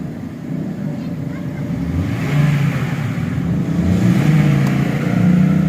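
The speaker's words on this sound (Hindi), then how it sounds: "मैं गाड़ी को जो है ना एक्सेलरेट भी करके देख लेता हूँ।" A 2013 Honda City engine, troubled by RPM surging and low pickup, revs up steadily and keeps rising in a continuous drone, with speech heard over it.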